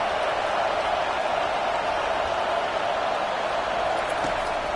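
Stadium crowd noise in the College Football 25 video game: a steady, dense wash of distant cheering and murmur at constant level throughout, with no distinct voices or commentary.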